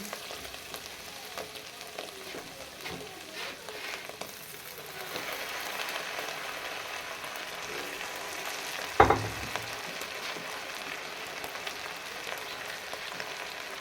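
Onions sizzling and frying steadily in a pan for a salted onion chicken dish, a continuous close crackle that grows fuller partway through, with one sharp clatter near the end.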